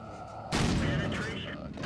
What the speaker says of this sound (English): That shot is so sloppy, but it was on target.